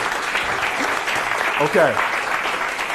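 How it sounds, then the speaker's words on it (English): An audience claps for a performer named Cameron at a live show, a dense, steady patter of applause running throughout while someone briefly talks over it. "give Cameron a round of applause"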